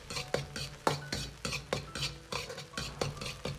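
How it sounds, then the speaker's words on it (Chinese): Scallions, garlic and Sichuan peppercorns stir-fried in a little oil in a wok for vinegar-sauced shredded potatoes, with repeated scraping clinks of the spatula against the pan over a soft sizzle, close and steady. "再放入少许的冷油，然后下入葱蒜，先煸炒出香味"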